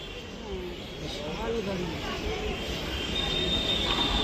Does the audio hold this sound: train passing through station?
yes